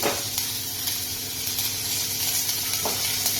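Curry leaves and watered-down tomato sauce hit a hot pan, giving a steady close sizzle and hiss with a few sharper spits and crackles, no one speaking.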